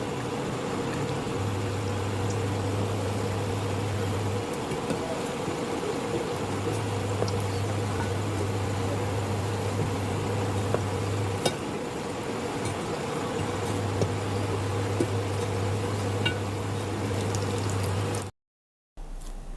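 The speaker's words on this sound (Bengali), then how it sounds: "এখন সিঙ্গারাগুলোকে আমি উভয় পাশ ভালোভাবে ভেজে নিব।" Singara samosas deep-frying in hot oil, turned to cook both sides, giving a steady continuous bubbling sizzle throughout with a low hum underneath, no voices.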